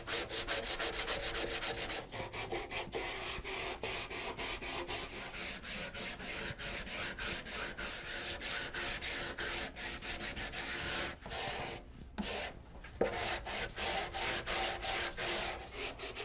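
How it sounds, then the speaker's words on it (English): Repeated back-and-forth rubbing of sandpaper on a wooden guitar body, a rhythmic scratchy rasp that continues steadily with a couple of brief pauses near the end. "Be very careful when you're sanding the shoulders up here."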